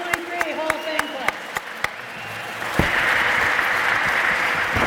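An audience at a 2023 athletics Hall of Fame ceremony applauds the inducted class; a few scattered claps come first, then a dense, sustained round of clapping swells up and fills the room.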